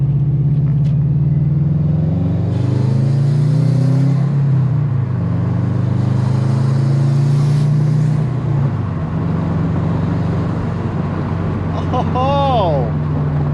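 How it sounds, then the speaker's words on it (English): A Subaru WRX with a new aftermarket intake revs and accelerates on the road, its engine drone rising and falling in steady loud waves under heavy wind buffeting, with a brief chirp near the end. "I want to hear this intake."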